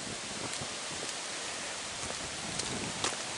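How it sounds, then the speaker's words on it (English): Steady rain hisses outdoors in a yard after a rainy weekend, a continuous even wash with occasional sharper drop ticks and no voices. "It's been raining all weekend."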